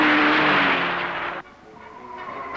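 Ford Falcon tires squealing and skidding across a hard granite test track during a durability run, a loud sustained screech that cuts off abruptly, followed by quieter engine and road noise.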